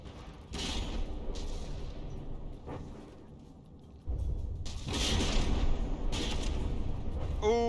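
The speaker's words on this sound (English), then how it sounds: "That volley blew the turret out." Heavy naval gunfire from a turret volley in the From The Depths naval combat game, booming in several bursts with a sustained rumbling roar between the blasts, loud and close.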